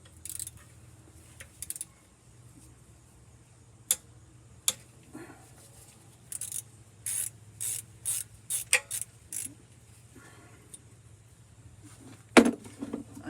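A hand ratchet working a T40 bolt out of a GM 4L80E transmission, scattered sharp clicking bursts and short ratcheting runs separated by pauses, close up over a low steady hum.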